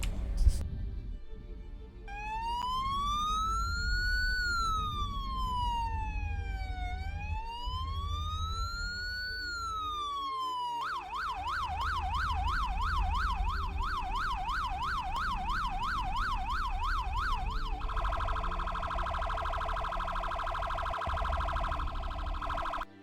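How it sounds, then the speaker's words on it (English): Loud electronic police car sirens cycling through several patterns: a slow rising-and-falling wail, then a rapid warbling yelp, then a fast pulsing tone, continuous and close. "These are what the sirens sound like."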